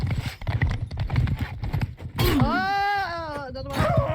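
Horses gallop with dense, rapid hoofbeats in the video game Mount & Blade II Bannerlord, loud and close, followed by a long wailing neigh over continuing hooves and game noise.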